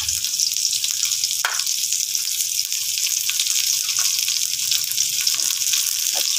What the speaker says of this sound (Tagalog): igisan natin ang una ay ang bawang